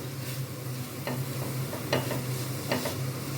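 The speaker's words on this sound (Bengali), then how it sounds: "সমস্ত মশলাগুলো ভালো করে আমি কষিয়ে নেব" A spice masala for an onion and egg curry cooks in a pan with a little water, a steady close sizzle punctuated by three distinct scraping strokes of a stirring spoon.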